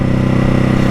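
A 2021 Ducati Hypermotard 950 SP engine drones loud and steady at moderate revs, its throbbing pulse filling the whole second with no voices.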